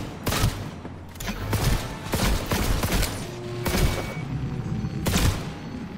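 Heavy gunfire in Cyberpunk: repeated bursts and sharp shots crack in clusters across the whole stretch, loud and close, with booming low thumps and no talking.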